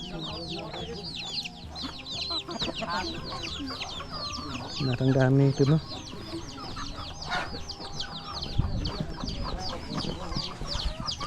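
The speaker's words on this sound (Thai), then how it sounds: "เลี้ยงเป็ดเลี้ยงไก่บักหลาย" Chickens on a hill farm in Oudomxay province, northern Laos, clucking and calling almost constantly from close by, with someone talking over them.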